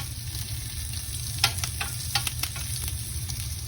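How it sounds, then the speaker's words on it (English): Salmon fillets searing in a hot pan with vegetables for grilled salmon, a steady close sizzle broken by a few sharp pops and crackles, with no talking. "we're just gonna let these go for, I don't know, maybe another 2 minutes. Don't want to burn the time, we just want to get a nice sear on them."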